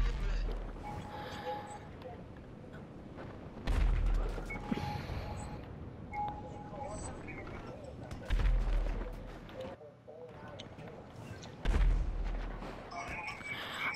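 Explosions in GTA heard at a distance, several deep booming thuds spaced a few seconds apart over wind-like rumble, with a voice speaking between them.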